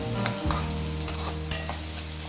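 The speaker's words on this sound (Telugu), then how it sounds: "ఇది హై ఫ్లేమ్ మీద వేయించుతున్నానండి నేను" Tindora (ivy gourd) with onion and garlic fries over high flame, a continuous sizzle with a few sharp clicks of stirring against the pan, close and alone.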